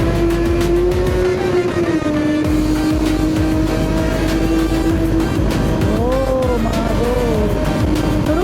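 A motorbike ridden through Okinawa, Japan, drones loudly and continuously, its engine pitch rising and falling as it revs, close up under steady road and wind rush.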